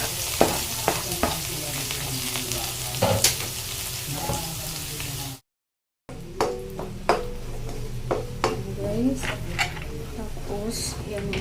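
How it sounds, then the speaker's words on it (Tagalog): Garlic and onion sizzle and fry in a pan for a stir-fried pechay dish, with frequent close spoon scrapes and clinks against the cookware throughout and a brief gap of silence midway. "mag-gisa naman tayo ng bawang at sibuyas"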